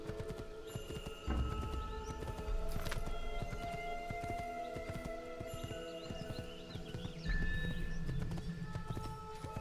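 Horse hooves clip-clop in a quick steady rhythm while riding in the video game Assassin's Creed 2, with faint ambient game sounds beneath.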